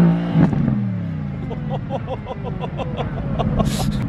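Mercedes-AMG GT supercar revving at a standstill, a rapid series of sharp throttle blips with crackling exhaust pops over a low rumbling idle, close and loud, with a voice briefly heard.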